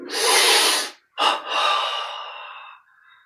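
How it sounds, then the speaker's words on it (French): Two audible breaths during a Yogoda meditation exercise: a long, close, airy inhale, a brief pause, then a sharp snort-like intake that trails off into a softer breath, with no talking. "On baisse la tête, inspire."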